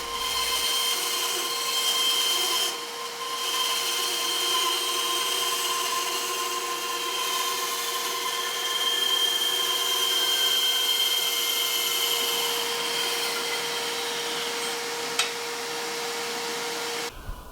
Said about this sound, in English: then going through the bandsaw, setting the distance from the bandsaw for how much dome we want to expose